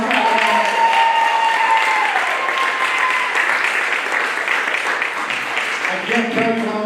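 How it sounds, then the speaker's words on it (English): Audience applause fills an evening student event, a dense steady clatter of many hands clapping in a hall, loud and sustained throughout with some scattered voices mixed in. "Give everyone a round of applause."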